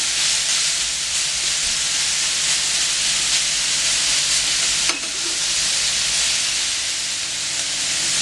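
Vegetable garnish for mussels sweats on a hot plancha, giving a steady, dense sizzle and hiss that runs unbroken, with one brief clink of a utensil partway through.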